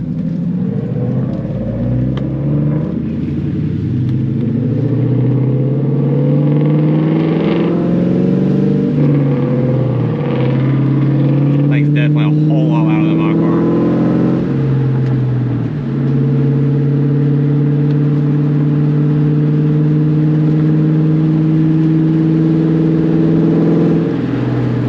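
A loud Ford Mustang S550 rumbles close by, its engine note climbing and falling in repeated revving sweeps over a constant heavy low drone, with no voices.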